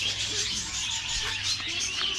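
Birds chirp and tweet in the background, with scattered small calls over a steady outdoor hiss; no talking.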